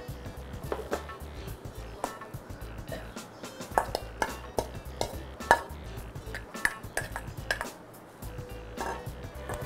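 Cooled palak spinach is moved into a bowl, with a steady run of close, light taps, clinks and soft clatter from the utensils and dish.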